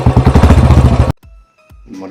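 An old-model Royal Enfield motorcycle with a torn silencer and a dirty engine chugs loudly and close by in a rapid, steady, uneven thump. It cuts off abruptly, and faint clicks and a brief low sound follow.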